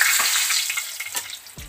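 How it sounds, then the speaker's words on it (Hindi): Chicken pieces for tandoori grill chicken fry in a pan, a constant crackling hiss broken by a few stirring scrapes and soft knocks, and one low thud near the end. "इसके बाद जो एक और पीस है उसको भी हम फ्राई कर लेंगे।"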